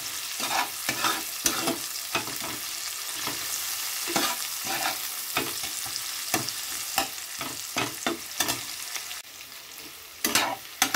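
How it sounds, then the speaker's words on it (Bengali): Chopped tomatoes fry in a pan as a spoon stirs them, making a steady sizzle broken by frequent sharp scraping and clinking strokes, close and fairly quiet, with no voices. "টমেটোগুলো হালকা ভেজে নেব"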